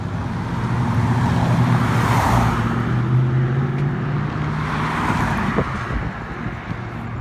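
A truck rumbles past on a street in the early morning, a steady low roar swelling and fading twice as vehicles go by, close and fairly loud.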